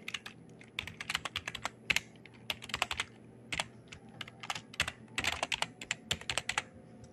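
Someone types an email address on a computer keyboard, a quiet, close run of uneven key clicks in short bursts with brief pauses between them.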